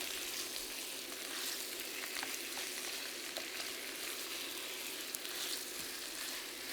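Pork pieces fry in a pan for Filipino dinuguan, a black pudding stew, giving a steady, dense sizzle with light crackles throughout and no talking.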